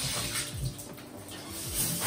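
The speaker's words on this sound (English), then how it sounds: "I need to hop in the shower" A shower runs at home with a steady, broad hiss of flowing water. It is fairly quiet and even throughout, and no one speaks.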